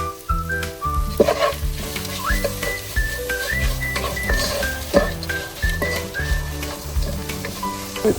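Onions and masala sizzle in hot oil for a Kerala fish curry, a steady crackling fry running under melodic background music.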